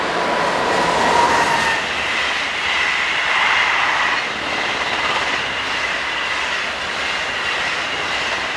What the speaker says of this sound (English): In the opposite direction, locomotive number 7402 slows with the